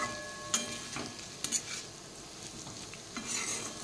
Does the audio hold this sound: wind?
no